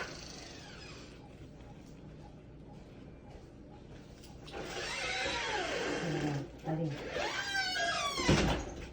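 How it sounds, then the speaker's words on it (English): A squeaky indoor door creaks open with rising and falling high-pitched squeals, moderately close, mixed with rustling and a voice talking nearby. "the door just got open and our door's kind of squeaky"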